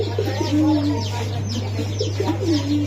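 Pigeons coo in repeated low, rolling calls at a busy pigeon market, close and clear over a constant background hum, with soft clucking and faint voices mixed in.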